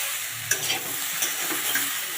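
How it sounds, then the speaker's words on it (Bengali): Moringa drumstick pieces sizzle and fry in a pan for a home-style shukto, with a steady hiss broken by a few sharp scraping stirs, close and fairly loud, with no talking. "এবার দিয়ে দিচ্ছি সজনে ডাঁটাগুলো দিয়ে একটু নাড়াচাড়া করে নেব"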